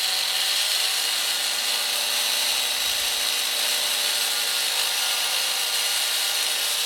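A granite edge is polished with a 150 grit pad, giving a steady, loud broadband hiss and whir of the pad on stone that runs continuously without pause or speech.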